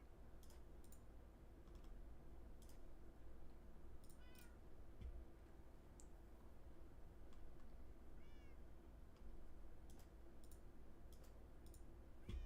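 Meows from a cat in the Minecraft video game, a few short high calls sounding over a steady low game hum with light clicking.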